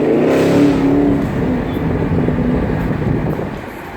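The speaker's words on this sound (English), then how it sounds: "I leave it in track mode all the time because I love loud exhaust." A 2016 Chevrolet Camaro SS with dual exhaust set to track mode revs loudly and close, one strong rising roar that settles into a rough, rumbling burble.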